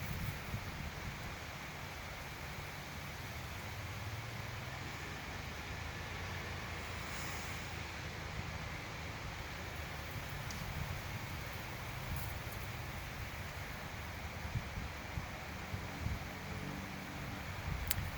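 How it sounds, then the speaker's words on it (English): Wind moves through a willow tree in a steady, broad outdoor rush of rustling leaves and air, constant and unbroken, with no voices and only a faint low rumble underneath. "Listen to this beautiful willow tree behind me."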